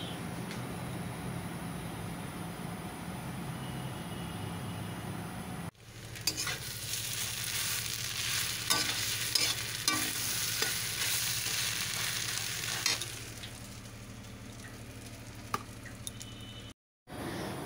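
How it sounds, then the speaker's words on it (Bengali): Taro cooking in hot oil, stirred in a pan at home: a steady close sizzle with repeated scraping stirs, bright and dense, briefly cutting out near the end. "এই তেলটাতে আবার কচুটা একটু টানিয়ে নিচ্ছি, যেন গলা না ধরে"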